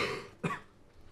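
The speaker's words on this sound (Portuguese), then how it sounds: "Tosse de cachorro, velho." A single sharp cough bursts out in the middle of a quiet podcast recording, brief and close to the microphone, with soft background sound before and after.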